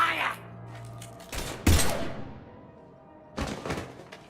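Gunfire in the video game Mass Effect, a few loud, sharp shots bursting out in short clusters against a quiet background.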